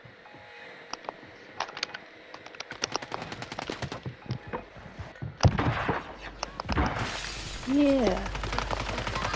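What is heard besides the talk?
gunfire in the video game Call of Duty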